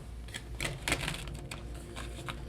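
Tarot cards being shuffled by hand, a quick irregular series of soft riffling clicks and taps, close and fairly quiet, with no talking.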